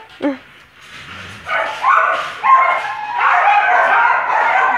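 A dog growls and whines at a breeding kennel. A short yelp is followed by rising, strained whimpering and yipping vocalizations, loud and close throughout.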